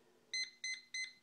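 Four short electronic beeps from a GunVault MV500 gun safe keypad, evenly spaced in quick succession, bright and high-pitched against a quiet background.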